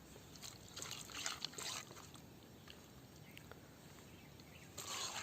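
Half a lemon's juice trickles and drips softly over duck meat being prepared for a duck 65 fry, faint and close with a few small splashes.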